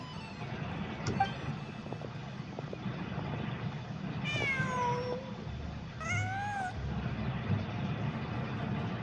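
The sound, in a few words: cat meowing in a video game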